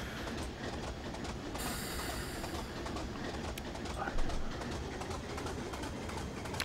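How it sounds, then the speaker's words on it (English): A two-stroke diesel locomotive in Train Simulator 2021 gives a continuous rumbling drone with rail clatter and occasional clicks, steady throughout at moderate loudness. "It's definitely a two-stroke diesel"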